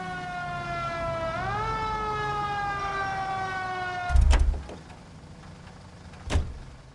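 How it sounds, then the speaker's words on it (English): A police car siren in the video game L.A. Noire wails steadily, its pitch sliding up then holding, then cuts off, followed by a couple of loud thumps. "Turn on the siren"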